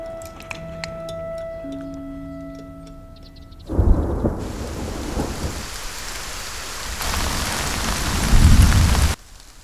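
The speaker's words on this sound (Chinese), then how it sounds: "喜欢听雨淅淅沥沥的声音，好像全世界都安静了。" Heavy rain during a thunderstorm pours in suddenly after soft sustained musical tones, hissing steadily and swelling into a louder, denser downpour before cutting off.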